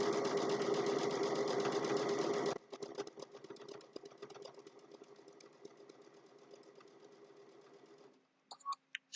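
A sewing machine stitches across the mitered corner of a fabric napkin in a steady, close, continuous whir, pausing and then running on more unevenly before a few short clicks at the end.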